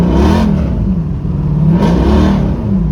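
An LS V8 swapped into a Toyota Prius revs hard while its worn 4L60 automatic slips in fourth gear as if in neutral, a loud, close, sustained engine roar with two rising surges.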